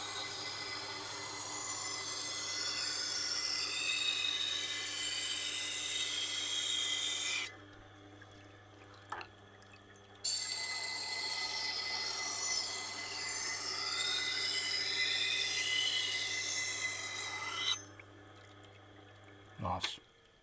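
A Wüsthof kitchen knife is ground on a 600 grit resin wheel, making a steady, close rasping hiss in two long passes separated by a pause, over a low motor hum.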